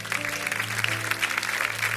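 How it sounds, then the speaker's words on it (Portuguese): Church congregation applauding Jesus during a Portuguese-language sermon, a steady wash of many hands clapping over a low sustained organ or keyboard hum, close and continuous for a couple of seconds. "Você pode aplaudir o Senhor Jesus?"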